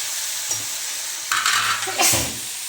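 Vegetables being stirred and fried in a pan in a home kitchen, with a steady sizzle underneath and a couple of louder scraping stirs of the spoon against the pan.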